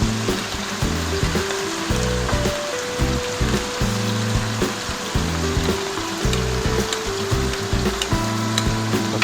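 Beef stir-frying in a pan with mushroom sauce just added, a continuous close, crackling sizzle with rhythmic scraping and stirring knocks throughout.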